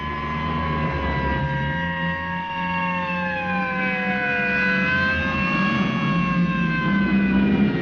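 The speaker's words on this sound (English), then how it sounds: "You couldn't possibly be surprised with all those sirens blasting." Several police sirens wail together, their rising and falling tones overlapping continuously over a low rumble of traffic.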